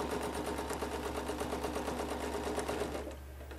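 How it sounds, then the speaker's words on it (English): A sewing machine runs a rapid, even stitching burr while quilting a line along a straight ruler with a ruler foot, close and continuous for about three seconds before stopping. "put the ruler on that stitching line and stitch up to the other"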